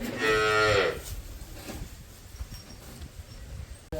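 A cow on a village farm gives one full, low moo near the start, then falls quiet, leaving faint outdoor background sounds.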